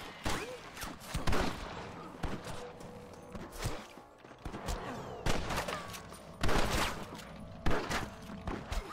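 Rapid volleys of gunfire ring out in a Red Dead Redemption shootout, with bursts of shots clustered close together and scattered hoofbeats and footsteps between the loud cracks.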